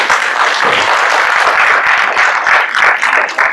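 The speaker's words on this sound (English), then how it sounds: "clap it up for him." Audience applause after a child shares his dream of playing in the NBA at a motivational talk, a dense steady wash of clapping filling the room for several seconds without speech.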